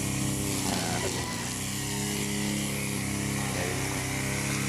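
A saw cross-cuts a log with a loud, steady engine-like drone that runs unbroken from start to finish, close by, with no voices over it.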